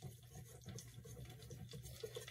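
Tap water pours steadily into a bowl of Pearl Milling Company buttermilk pancake mix, a continuous close splashing trickle with no talk over it.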